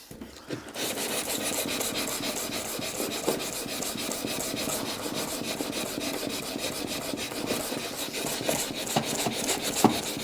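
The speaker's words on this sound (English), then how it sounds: "Just get some of this fill off the edges there, because I don't really want it there." Steady abrasive rasping as body filler is rubbed off the panel edges during rust repair on a Citroen C1, a continuous close scraping with rhythmic strokes and no talk.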